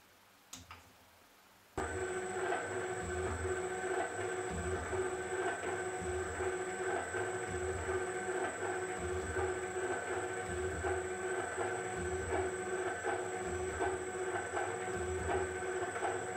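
A machine cuts a timing belt gear on a rotary table, starting abruptly after a quiet moment and then running as a steady loud mechanical whine with rhythmic low thumps repeating throughout.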